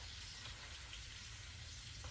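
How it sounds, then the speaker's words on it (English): Butter cubes sizzling on a steak in a hot pan, a steady soft crackle and hiss with faint pops throughout, low and continuous with no voices. "when you cook butter on steak"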